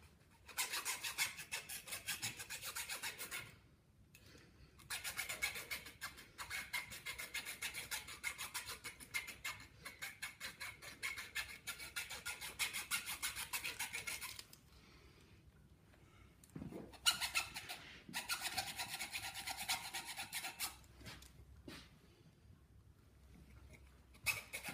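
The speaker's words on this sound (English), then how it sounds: "The trick is to get used to your hacksaw blade on how firm to press it." Junior hacksaw rasping back and forth through the steel armour wires of SWA cable, in steady bursts of stroking separated by short pauses, close and fairly loud with no talk.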